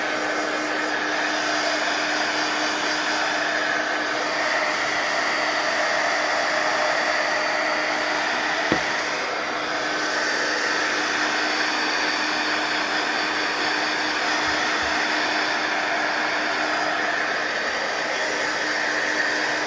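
A hair dryer blows steadily and loudly on a mixed media painting for the whole stretch, one continuous whirring hiss with a brief faint knock partway through and no talking.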